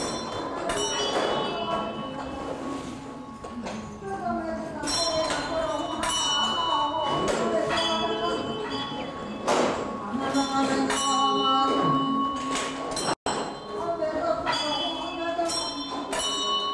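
A bell rings at the great prayer wheel of a Tibetan monastery, its resonant strikes sustaining and overlapping at moderate volume while a voice talks steadily over them.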